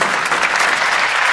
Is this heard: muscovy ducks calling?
no